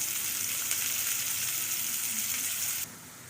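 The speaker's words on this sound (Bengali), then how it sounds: "এই জন্য অল্প তেল দিয়ে মাছটা প্রথমে ভেজে নেব।" Pangas fish fries in a little oil with a loud, dense, steady sizzle close by, which drops suddenly to a quieter hiss near the end.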